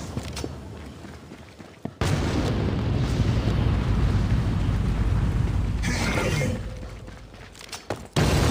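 A flashbang grenade goes off in the shooter game Critical Strike with a sudden loud burst, followed by a sustained roaring, ringing wash of noise that lasts several seconds before cutting off abruptly.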